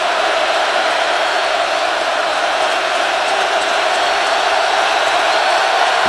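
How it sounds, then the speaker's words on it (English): A huge stadium crowd at a college football game between Miami and Nebraska in 2014 roars in a steady, dense wash of noise that never lets up, loud and distant-sounding, with no single voices standing out. "Listen to this crowd."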